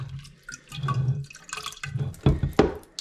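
Water dripping and splashing into a plastic bowl under a cabinet while a water filter is changed, irregular drops and trickles close by.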